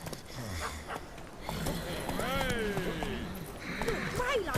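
The horse Roach trotting in The Witcher 3, steady clip-clop hoofbeats with occasional snorting under background game music and sound effects, close and moderately loud.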